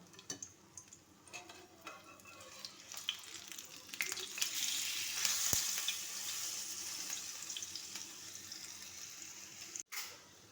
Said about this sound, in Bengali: এরপর তেলের ভেতরে দিয়ে ভালো করে ভেজে নিতে হবে।